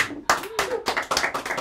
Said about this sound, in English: give a big round of applause to Mr. Ric Birtill!